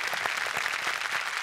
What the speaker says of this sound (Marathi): अरुण मोहरे यांच्यासाठी जोरदार टाळ्या.